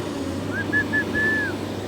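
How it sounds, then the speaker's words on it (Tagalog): Four short whistled notes, the last one longest, rising above steady outdoor background noise. "Pag ako yung nagsipol."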